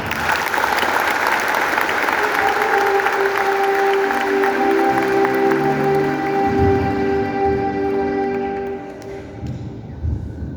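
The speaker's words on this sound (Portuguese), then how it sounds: "queiram comigo saudá-los com uma forte salva de palmas" A church congregation applauds during Sunday Mass, a strong sustained round of clapping while tonal organ or keyboard notes ring over it, the clapping thinning and fading toward the end.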